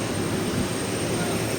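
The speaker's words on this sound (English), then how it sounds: "This is our plane." Chartered passenger jet at an airport boarding area in Punta Arenas, Chile, giving a steady, loud, broadband engine roar that holds level throughout, with no distinct events and a faint murmur of voices mixed in.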